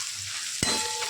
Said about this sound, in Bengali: দেখুন পেঁয়াজটাকে আমরা একটু ভাজবো ভালো করে